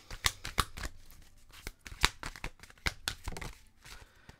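Cards shuffled and drawn from an oracle advice deck, a run of close, crisp riffling snaps and papery flicks with brief pauses, no talking.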